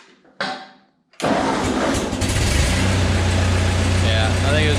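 Ford 8N tractor engine starting: a short cranking burst, a pause, then the engine catches and settles into a loud, steady low rumbling idle up close.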